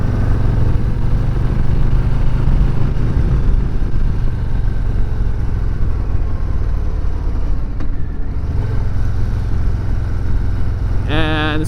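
Harley-Davidson Low Rider ST motorcycle riding through a curve, with a steady loud engine and wind drone throughout, the engine note easing briefly near the end before a rising revving burst.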